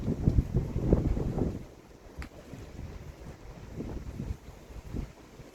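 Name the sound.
strong wind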